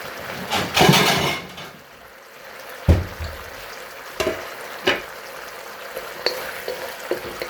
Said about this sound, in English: Keep on stir frying.